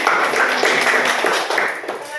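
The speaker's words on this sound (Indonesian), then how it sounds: "Dan tepuk tangan" A small group of students claps their hands together during a group counseling game, a dense, steady patter of claps close by with voices mixed in.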